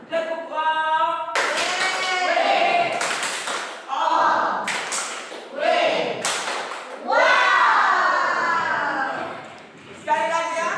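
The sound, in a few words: rhythmic 'tepuk wow' clapping chant by children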